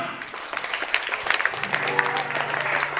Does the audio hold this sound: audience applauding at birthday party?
yes